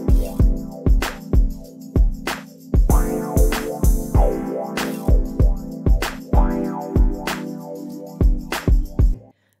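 A West Coast hip hop beat with sustained piano chords over punchy kick and snare drums in a steady groove, loud and full, cutting off abruptly at the end.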